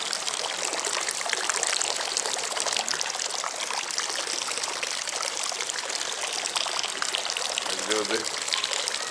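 Hot spring water at about 70 degrees pours from a spring fountain in Wiesbaden: a continuous, close splashing stream. A voice briefly sounds faintly near the end.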